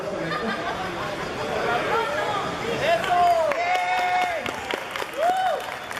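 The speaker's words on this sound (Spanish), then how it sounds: "Un aplauso para Link, sí, que tenía que ganárselo." Applause and cheering greet a quiz winner at a Zelda-themed gaming convention talk, sustained crowd clapping mixed with chatter and a few whistles, a voice speaking over it from the stage.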